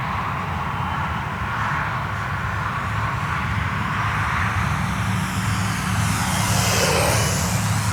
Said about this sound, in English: It's just a joy to fly this airplane